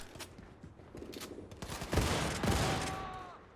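Rapid gunfire bursts from Wolfenstein 2, crackling and dense, building louder toward the middle and holding steady before a fading mechanical ring at the end.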